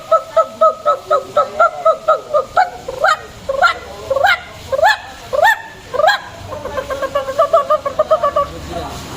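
A man imitates the call of the dahuk, or white-breasted waterhen, as heard in rice fields, with a rapid run of repeated voiced whoops and rising yelps, loud and close, with no other talk.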